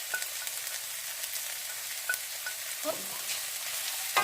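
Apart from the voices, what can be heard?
onions, garlic and ginger sautéing on high heat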